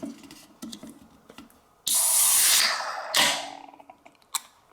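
A hard pour of Pepsi Nitro cola foaming up, loud fizzing hiss that bursts in suddenly, holds for about two seconds, then surges again and fades, with quieter handling clicks and taps before and after.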